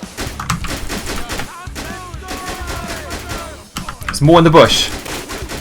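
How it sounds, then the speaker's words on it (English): Gunfire crackles in a GTA 5 police and army patrol shootout, a burst of rapid shots that builds to a loud volley near the end, mixed in with voices talking. "Keep up the suppressive fire."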